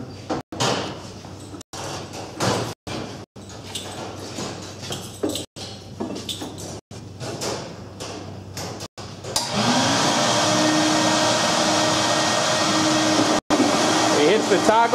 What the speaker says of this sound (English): Right now it's cleaning the tubes at 3 feet a second.